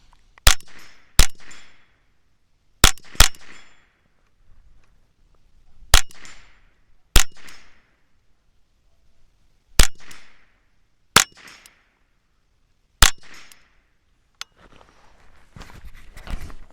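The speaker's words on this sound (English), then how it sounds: "probably shoot off that tank trap in a second too" Rifle shots ringing off a steel tank trap target, about ten sharp isolated cracks spaced a second or two apart, crisp and loud with short decays, no talking.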